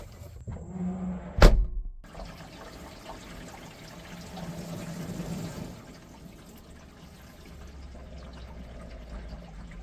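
A garden hose sprays water onto a BMW E46 to find a leak: a sharp click starts it, then a steady hissing, splashing wash runs for several seconds before it eases off.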